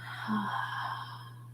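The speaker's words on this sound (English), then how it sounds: "let's inhale through our nose. And exhale out our mouth with a" A single soft breath exhaled through the mouth during a qigong stretch, a brief airy rush that swells and fades over a steady low hum, close and fairly quiet.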